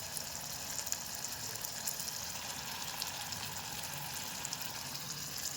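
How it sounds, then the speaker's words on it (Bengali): Prawns frying in white oil, cooked over a flame in a mini cooker, give a steady, even sizzle and hiss that continues unbroken from start to finish, close and moderately loud, with no voices. "এখানে চিংড়ি মাছগুলো দেখো ভাজা হচ্ছে"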